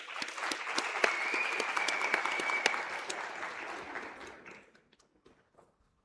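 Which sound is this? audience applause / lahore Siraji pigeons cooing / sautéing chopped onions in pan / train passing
audience applause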